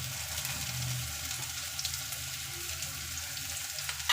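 Sliced onions for a chicken curry sizzle steadily in hot oil in a pan, a continuous close frying hiss with no talking.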